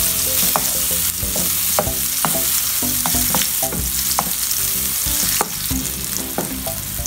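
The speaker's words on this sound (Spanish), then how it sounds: "Luego que los vegetales se sofrían bien, vamos a echar la carne." Vegetables sautéing in a pan for stuffed ripe plantains, a constant sizzle close by with repeated clinks and scrapes of a utensil stirring throughout, and no voices.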